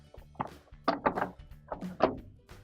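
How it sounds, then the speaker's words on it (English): Plastic dispenser drawer of a Kenmore washer sliding back into its slot, a quick run of close, hollow thunks and scrapes with no talking. "And we can put our dispenser drawer back in."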